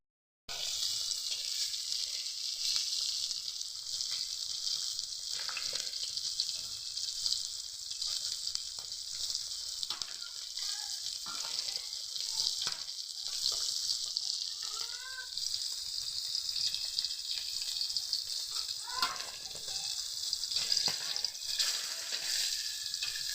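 Hilsa fish frying in hot oil, a steady loud sizzle that continues without a break, with occasional soft crackles and small stirring sounds over it.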